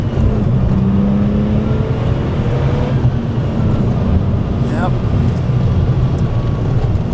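A Porsche 993 GT2 tribute engine roars and climbs in pitch as it accelerates hard, loud and close, with a brief voice near the end.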